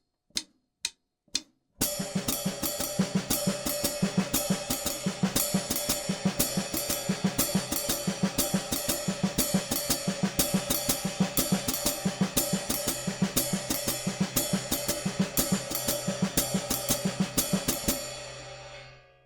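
Jazz drum sticking pattern with the ride cymbal and hi-hat foot locked to the same rhythm and the left hand doubling it, a steady stream of close, crisp strokes after a few opening taps, with no voice.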